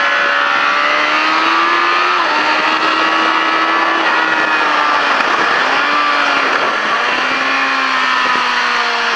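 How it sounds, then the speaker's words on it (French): A motorcycle at a run stage revs hard and accelerates, its engine note climbing and dipping through several gear changes, loud and close for the whole stretch with no talk. "déjà je relève la moto et j'accélère"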